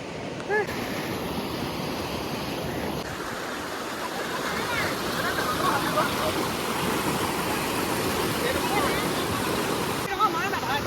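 A river in Arunachal rushes steadily along, a continuous broad hiss and roar of flowing water heard close by, with no breaks over several seconds.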